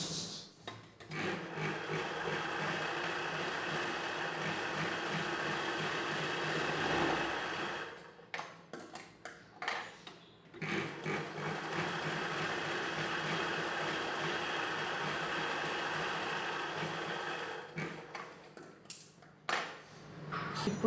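A sewing machine runs steadily while stitching a chudidhar pant seam, a continuous close whirring hum that stops briefly twice and restarts, with a few short bursts near the end.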